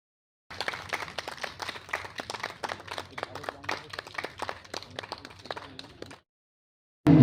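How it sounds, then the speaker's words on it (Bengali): Audience clapping at a Bangladesh–India literary and cultural program: scattered, moderately paced claps from a modest crowd lasting about six seconds, fairly quiet, then stopping abruptly. "হাততালিটা একটু জোরে হোক না"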